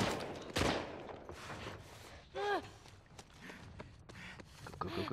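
Scattered gunshots in The Last of Us Part II, one sharp close blast followed by fainter, more distant shots amid movement and scuffling, with speech-like sounds in the background.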